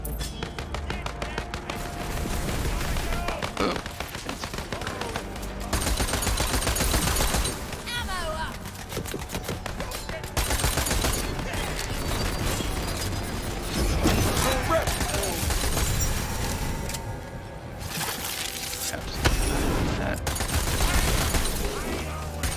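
Submachine gun fire from Tiny Tina's Wonderlands, heard as dense bursts of rapid shots that recur through the stretch alongside other game effects and a speaking voice.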